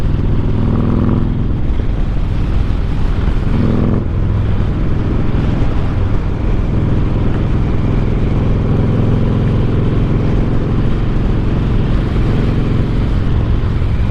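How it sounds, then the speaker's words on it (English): A Harley-Davidson motorcycle engine runs steadily while riding, a continuous loud low rumble with slight shifts in pitch as the rider cruises along, close and with no talk. "I like when you're coming off of the gas and you're gearing down and it makes that noise."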